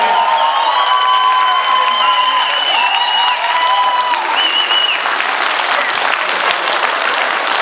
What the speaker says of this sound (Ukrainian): Ще, ще, ще подаруйте оплески.